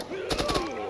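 A brief, close burst of a few rapid machine gun shots in the tactical game Door Kickers 2, cracking over a steady low hum of background music.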